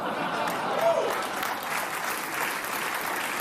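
Steady applause from a studio audience at a comedy game show, a dense wash of clapping holding at an even level for a few seconds with no voices over it.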